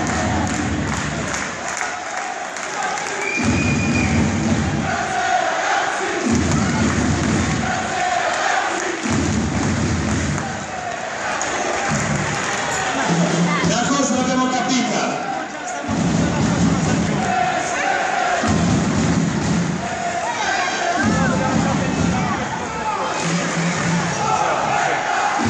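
Sustained crowd noise from a packed stand of spectators at a Sala Consilina football match, loud and continuous throughout, with bursts of cheering and applause mixed with rhythmic chanting and a voice over a loudspeaker.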